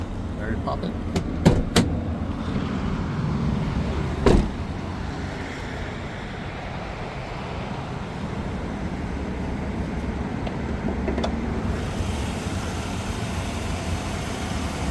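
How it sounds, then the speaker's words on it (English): A 2021 GMC Savana 3500 cutaway box truck with a 16 ft box idles steadily close by, a low continuous rumble with a few sharp clicks and knocks early on. "Engine sounds great."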